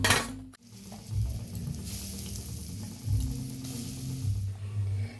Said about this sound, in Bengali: আর বাকিগুলো যেগুলো আছে সেগুলো এইভাবে ভেজে নেবো